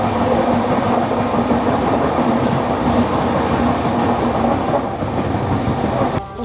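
The Hirakhand Express runs toward Koraput with a loud, continuous rumble and rattle of wheels on track, heard close from on board and steady throughout before a brief shift at the very end.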